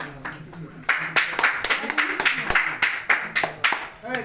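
Audience clapping at a sub-divisional district meeting in Siwan, a run of sharp uneven handclaps from a crowd that swells after a second and keeps a steady pulse, with voices murmuring underneath.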